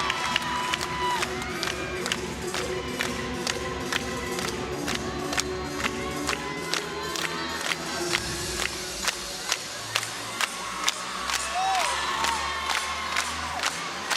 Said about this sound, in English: Crowd is clapping along with Lippett.